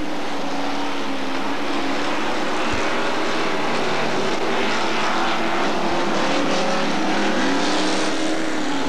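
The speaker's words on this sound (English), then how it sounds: "Sturck colliding with the 303 car that continues on down track." Hot stock cars race around a Bradford oval track in a continuous loud roar of engines, with a couple of brief knocks as the pack passes close by.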